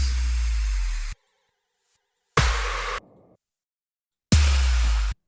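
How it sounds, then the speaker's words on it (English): Three separate synthetic effects, each a swelling noisy riser cut off sharply, one ending with a deep boom impact, separated by silence. "Then we got all these sound effects, risers, downers, impacts."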